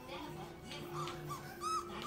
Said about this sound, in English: all you're doing is barking.